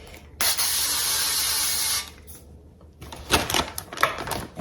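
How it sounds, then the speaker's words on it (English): An olive oil spray can hisses in one steady burst of about a second and a half onto a pan for diced hash brown potatoes, followed by rattling and clattering handling sounds. "I'm using the olive oil spray"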